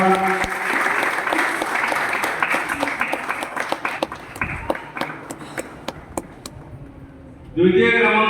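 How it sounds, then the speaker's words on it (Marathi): A crowd at a bhajan singing competition prize ceremony claps loudly, a dense burst of applause thinning into scattered individual claps before a voice starts speaking over a sudden loud sound at the end. "जोरदार टाळ्या"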